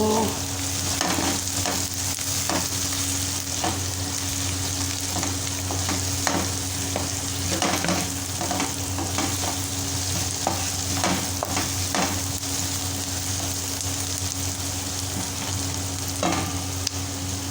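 Onions and black cardamom fry in a pan with a steady, dense sizzle and crackle, punctuated by soft stirring scrapes, close and continuous with no talk.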